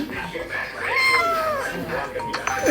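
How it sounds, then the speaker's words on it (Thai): A cat meows close by, a drawn-out rising and falling cry followed by shorter mews, with people talking faintly in the background. "เราจะเอาแมวตัวนี้"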